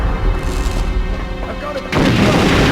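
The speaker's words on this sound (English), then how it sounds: "going to town with my grenade launcher here" Grenade launcher blast in Perfect Dark's Area 51 rescue level: a sudden loud, broad explosion bursts in near the two-second mark and roars on to the end, following a stretch of busy game noise.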